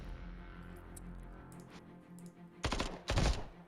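Two short bursts of gunfire in the sci-fi strategy video game Templar Battleforce break over quiet background game audio, fairly loud and close.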